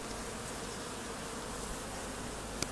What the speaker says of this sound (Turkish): Arı inliyor.